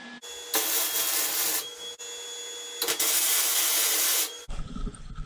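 Tack welding a steel piece for a Jeep JK rear bumper: two long, loud bursts of harsh crackling hiss with brief quiet gaps, then a rougher, lower rumble at the end.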